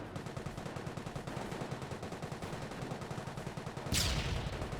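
Squads firing from behind heavy cover in Company of Heroes 1, a steady rattle of rapid machine-gun and rifle fire, distant and continuous, with a sharper, louder crack near the end.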